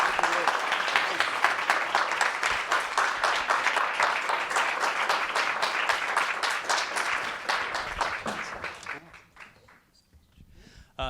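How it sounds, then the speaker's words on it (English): An audience at a Manhattan campus event applauds after an evening presentation, a dense and steady wash of clapping lasting about nine seconds before fading away. "Big round of applause, please."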